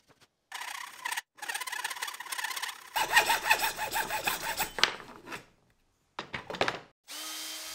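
A power drill bores a shallow hole into the underside of a timber stool, whirring and grinding loudly in several bursts of varying length broken by short silences.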